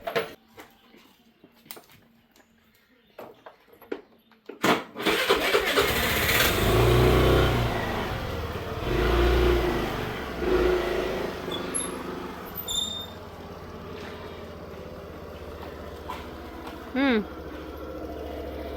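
A motorbike engine starts with a sharp catch, then idles and revs in rising and falling swells, fairly close, while people talk around it and other faint noises come and go.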